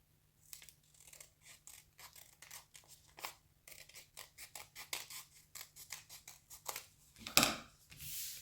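Scissors snipping through folded paper while making a six-point snowflake, a run of crisp, close cuts in a steady rhythm, ending with a sharper rustle of paper.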